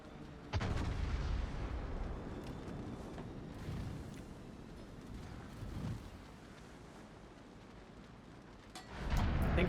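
The USS Iowa battleship fires a gun salvo in World of Warships, deep booming reports over a heavy rumbling sea-battle backdrop, with a fresh loud blast at the start and another near the end.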